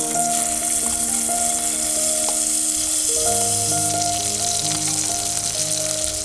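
A ground paste sautéing with crushed garlic in hot oil for a Kerala-style sardine curry, a steady, dense sizzle and crackle close by, continuous and fairly loud, with faint tonal hum beneath and no voices.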